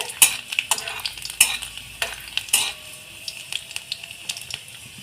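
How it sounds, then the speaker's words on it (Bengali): Chopped garlic fries in a pan with a soft continuous sizzle while a utensil stirs it, giving sharp scraping clicks and taps that fade into sparser ticks. "আমার রসুনটা একটু হালকা বাদামি করে ভাজা হয়ে গেছে"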